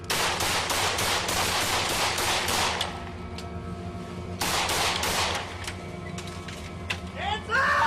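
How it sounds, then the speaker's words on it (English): Rapid bursts of gunfire from a Dallas police officer, a dense string of loud shots crackling for nearly three seconds, then a pause and another volley of several shots, with shouting voices near the end. "Shots fired! Shots fired!"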